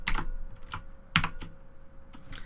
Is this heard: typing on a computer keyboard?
yes